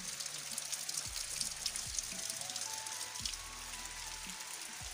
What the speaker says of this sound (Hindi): तेज बारिश भी आ रही है।